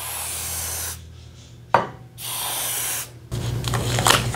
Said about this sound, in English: I'm just gonna go and spray it down like so.